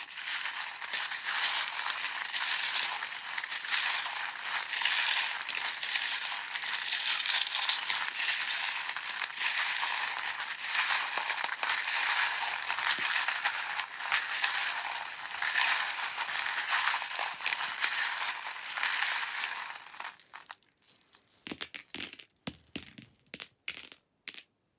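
Tarot cards being shuffled close up, a dense, steady crisp riffling and crackling that runs for about twenty seconds, then breaks into a few separate taps and slaps as the deck settles.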